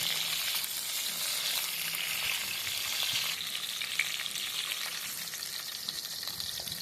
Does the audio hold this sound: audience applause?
no